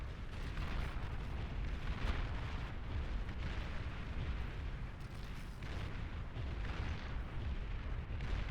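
Continuous rumbling barrage of explosions and artillery-like booms from a Beyond All Reason real-time strategy battle, with a fusion reactor blast in play, dense and loud throughout with no clear gaps.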